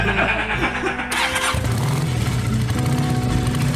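A motorcycle engine starts up nearby, a brief cranking burst giving way to a steady low idle rumble that fills the rest, with faint voice-like sound mixed in.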